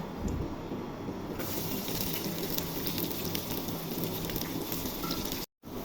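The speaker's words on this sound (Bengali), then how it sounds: "তেল গরম হয়ে গেছে, এখন শুকনো মরিচ একটা ফোড়নে দিয়ে দিব, রসুন কুচি দিয়ে দিব" Dried chili and chopped garlic sizzle steadily in hot oil for red amaranth greens stir-fry, a dense continuous crackle and hiss close up with no talk, cutting out briefly near the end.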